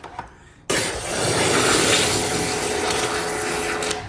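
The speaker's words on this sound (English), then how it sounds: "Spraying down an undercarriage because I want it clean" A sudden, loud burst of pressurized water spray starts and hisses continuously close by, with a steady rough wash against a vehicle's undercarriage.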